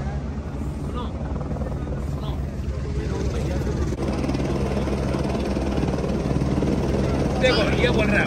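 A helicopter at Kedarnath thrums steadily with a loud, continuous rotor and engine drone close by, while a person talks over it throughout.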